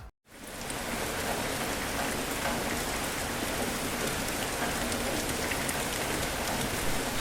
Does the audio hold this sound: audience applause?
no